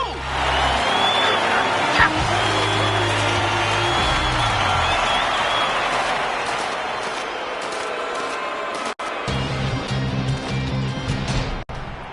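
A stadium crowd in the video game Mutant Football League 2 roars as a dense, sustained wash of noise during a football game, loud and continuous for most of the stretch, with two brief cut-outs near the end.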